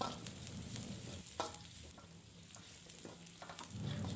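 Chopped garlic and shallots fry in hot oil with a steady close sizzle, broken by occasional crackles and stirring scrapes, with no voices.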